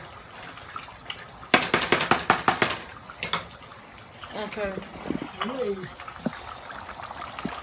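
Buttery chicken and rice being stirred in water in a pot, with a few sloshing, scraping strokes mixed among close conversational voices.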